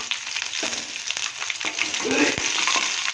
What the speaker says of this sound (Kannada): ಹಾಕಿ ಅದು ಕೂಡ ಫ್ರೈ ಮಾಡಬೇಕು